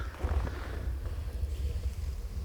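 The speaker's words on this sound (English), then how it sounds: "A little bit of a wind, nice sunshine." Wind blowing outdoors on a sunny day rumbles steadily and fairly loudly against the microphone, a continuous low buffeting with no voices over it.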